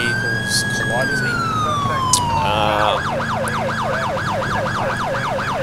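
A police car siren in the video game GTA IV wails steadily up close, then switches to a fast, rapid yelp pattern, blaring continuously over background traffic and engine noise.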